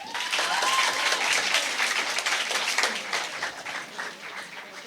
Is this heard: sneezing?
no